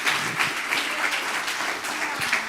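A church congregation at a sermon gives sustained applause, a thick, even roar of many hands clapping for a few seconds, close and loud with no speech over it.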